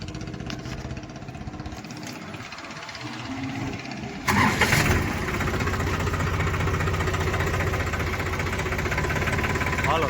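A tractor engine on a farm during chickpea threshing cranks for several seconds, then catches with a loud burst and settles into a steady, rough, knocking diesel idle.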